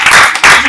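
Loud, close clapping from an audience comes in two thick bursts separated by a brief dip, very short and dense like a quick round of applause.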